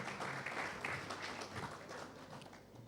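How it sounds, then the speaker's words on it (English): Gala dinner audience applauds a gentleman from Diamond Bank, a dense, continuous wash of clapping from a large crowd heard for a few seconds without pause. "please applaud the gentleman"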